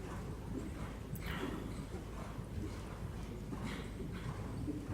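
Soft, rhythmic hoofbeats of a hot little jumper-type horse working on flatwork in a riding lesson, faint and somewhat distant against steady background noise.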